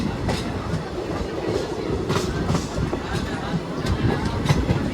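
Passenger train on the Junagadh to Somnath route heard from inside the coach, with a steady rumbling roll and rhythmic clickety-clack of wheels over rail joints, loud and continuous.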